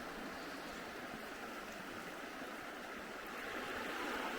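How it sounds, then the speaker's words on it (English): A peaceful brook or creek flowing steadily, a continuous broadband rush of running water, fairly close and constant, with no voices over it. "it's a nice, peaceful brook or river,"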